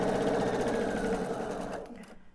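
A sewing machine piecing a quilt block, a rapid steady mechanical stitching rattle close by that slows and fades out as the run ends.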